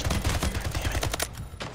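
Rapid gunfire in the shooter game Splitgate, a quick burst of evenly spaced shots rattling for about a second before thinning into a few scattered cracks.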